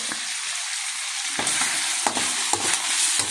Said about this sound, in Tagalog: haluin natin ulit mga kaguro yung ating ano niluto